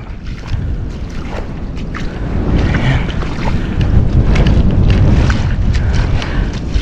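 Gusty wind buffets the microphone outdoors, a rumbling, rushing noise that grows stronger over time, with faint water sounds beneath.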